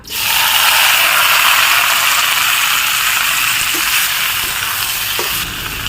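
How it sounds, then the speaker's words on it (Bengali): Boiled jackfruit pieces dropped into hot frying oil after potatoes, a loud continuous sizzle and crackle that holds steady throughout, with a few faint clinks near the end and no talking. "এই তেলের মধ্যে সিদ্ধ করা এঁচড়গুলো দিয়ে দেবো"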